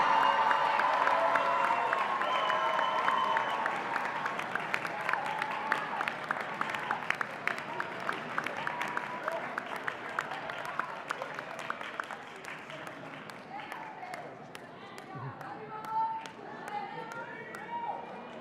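Graduates at a Rockefeller College undergraduate recognition ceremony applaud their families in a large indoor hall, with sustained dense clapping and scattered cheers that slowly thin out, while voices murmur underneath.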